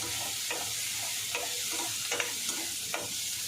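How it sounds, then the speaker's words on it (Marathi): Onion frying hard over a fast gas flame, a loud continuous sizzle broken by regular stirring scrapes every half second or so, with no talking. "आपण कांदा चांगला फ्राय करून घ्यायचा हे बघा माझी गॅसची फेम एवढी फास्ट आहे"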